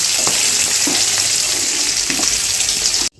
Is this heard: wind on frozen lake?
no